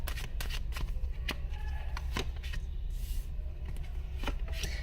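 Tarot cards shuffled by hand up close, a run of quick crisp riffling snaps and flicks at an irregular rhythm over a quiet room, with no talking.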